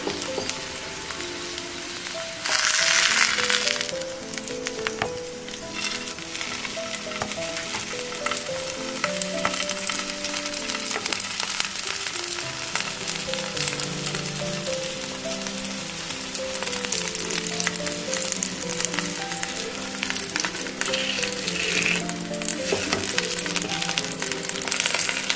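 Potato-stuffed wheat tacos toasting on a hot pan, giving a steady crackling sizzle with faint stirring or turning noises that continue evenly and close by, without talk.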